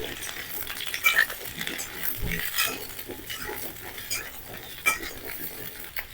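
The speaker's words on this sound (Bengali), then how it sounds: "তেল হালকা গরম হয়ে গেলে এবার একে একে পটলগুলোকে দিয়ে দেবো।" Pieces of pointed gourd (potol) dropped one by one into lightly heated oil in a kadai, giving a soft, low sizzle with occasional small clinks and bumps of placement and stirring, fairly quiet throughout with no talking.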